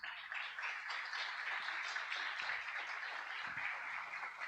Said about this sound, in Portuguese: Diga glórias a Deus e aplauda Jesus.